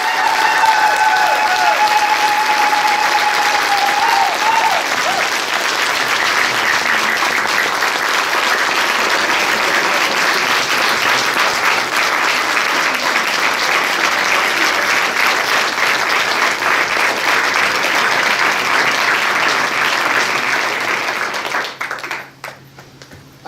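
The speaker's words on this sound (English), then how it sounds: "So would you all please give a round of applause to Francisco?" A crowd at an award ceremony breaks into long, loud applause with steady dense clapping, joined by a few brief whoops early on, before the clapping fades out near the end.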